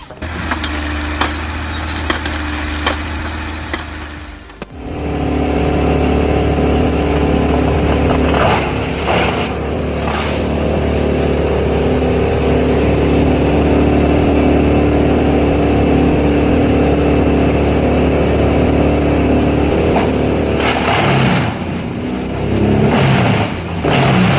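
A tractor-mounted harvester head's heavy engine drones loudly and steadily after a brief pause, with hydraulic strain and occasional knocks as it grips and cuts logs in a Nordic forest.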